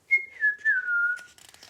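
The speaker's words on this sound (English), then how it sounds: "Papa Bear likes to whistle." A person whistles a short tune, a clear pure tone sliding gently downward over a few held notes, close and alone, followed by a brief rustle.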